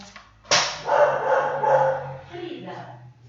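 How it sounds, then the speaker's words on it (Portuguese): A female dog barks and yelps close by in a home, one sharp bark followed by whining, yipping vocalizations that trail off, with a person's voice mixed in. "só um minutinho que eu vou ter que prender de novo a minha cachorra"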